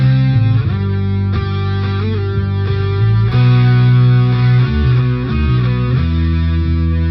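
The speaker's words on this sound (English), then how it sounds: "Another guitar, basically doubling the bass, but it's way up higher." A distorted electric guitar plays a riff in a higher register, doubling a bass line, loud and continuous with steady rhythmic note changes.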